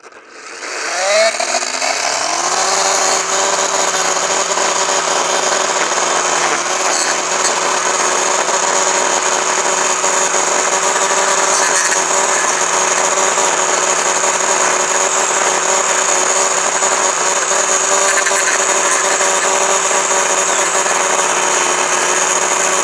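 A Ryobi P2312 18V battery-powered edger spins up and cuts along a hard-surface edge, holding a loud, steady motor whine close by for over twenty seconds.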